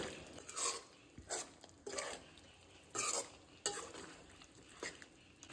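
A spoon scrapes and stirs Goan chicken chilli with onion and capsicum in a pan, a handful of separate close strokes with a faint sizzle between them.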